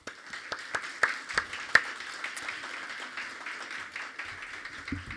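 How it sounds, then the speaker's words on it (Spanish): A church congregation claps for the fathers at a Father's Day service: a scattered patter of separate claps from a modest crowd, close and uneven, thinning out toward the end. "Darles un aplauso a los papás."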